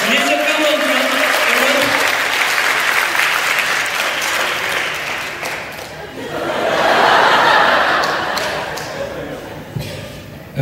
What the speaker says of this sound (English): Can we just give her a round of applause tonight?